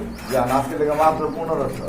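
Large pigeons at a seller's loft coo in soft, repeated rolling calls while a male flutters restlessly; people talk over the cooing throughout.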